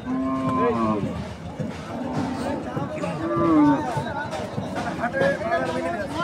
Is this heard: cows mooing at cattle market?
yes